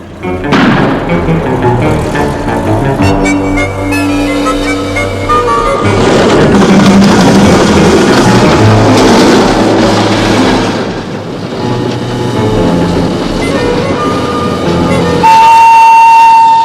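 A loud train rumbles and clatters close by, with dense rolling mechanical noise and a sustained horn-like tone near the end.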